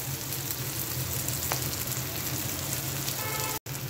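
Spices with coriander powder fry in a pan for moog dal with fish head, giving a dense, steady sizzle that stays close and even throughout, with no talk.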